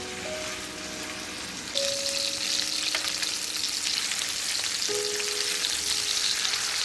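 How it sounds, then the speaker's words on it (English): Beef tournedos steaks searing in a very hot skillet, a steady close sizzle and crackle that swells louder partway through and holds, with a few faint clinks. "while the steaks are frying"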